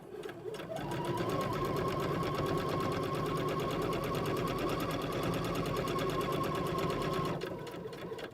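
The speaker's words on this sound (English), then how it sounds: "we're going to just stitch this on down" A sewing machine stitches a center lap zipper in one continuous fast run of several seconds, its rapid needle rattle loud and close before it stops.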